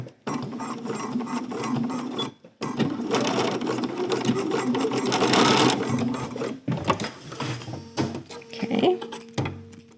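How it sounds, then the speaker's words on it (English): A home sewing machine restitches part of a knit top's seam, its close, fast motor buzz running in bursts with brief stops between them, with a few handling knocks near the end. "So I'm just going to restitch that part only."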